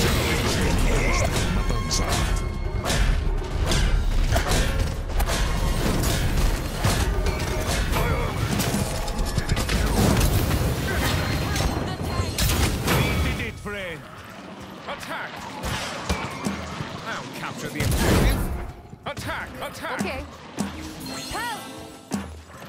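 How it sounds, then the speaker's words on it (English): A dense, loud barrage of video game attacks, with rapid crashes and impacts hammering continuously for several seconds before thinning into scattered hits, while game voices call out over the action. "Barrage incoming!"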